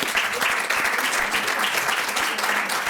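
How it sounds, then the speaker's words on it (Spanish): At a conference in the Argentine Senate, an audience applauds a speaker invited to the podium, a full steady stretch of clapping from many hands heard alone and evenly loud. "Un aplauso para ella."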